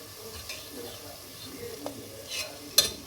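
Roasted wheat or millet flour being stirred into chicken gravy in a pan, with soft scraping, gentle sizzling and a few sharp utensil clinks near the end, fairly quiet.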